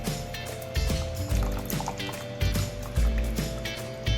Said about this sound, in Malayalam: നമ്മൾ നേരത്തെ തയ്യാറാക്കി വെച്ചിരിക്കുന്ന ആ പുളിവെള്ളം ഇതിലേക്ക് ഒഴിക്കാം